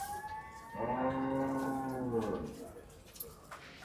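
A single cow at Gabtoli cattle market gives one loud, drawn-out moo of about a second and a half, standing out against a quiet background with faint market noise after it.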